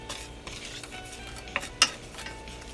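A utensil scrapes and clinks against a pan while chicken and penne pasta are stirred together over light sizzling, with a couple of sharper metallic taps standing out, faint and close.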